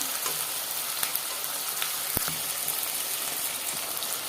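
Ghee added to a hot pan with a chicken dish and onions, giving a soft, steady sizzle and frying hiss with a few light clinks of a spoon, no talking.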